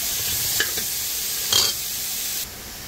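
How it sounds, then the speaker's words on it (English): Butter sizzling in a pan with vegetables and a seafood mix for spaghetti, a steady broadband hiss with a few brief stirring scrapes and a short louder burst near the middle, close and unaccompanied by speech. "I just added a little piece of butter in there"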